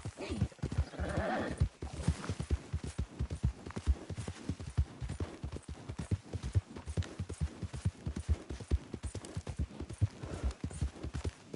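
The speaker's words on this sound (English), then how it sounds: "Damn horse." Rapid, steady clip-clop of horse hooves at a gallop in Red Dead Redemption 2, near and continuous, with a brief whinny early on and faint voices in the background.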